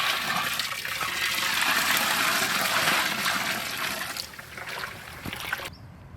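Water poured into a pot of simmering mutton and carrots for Sri Lankan mutton dum biryani: a steady, full splashing pour for about four seconds that thins into a lighter trickle and drips.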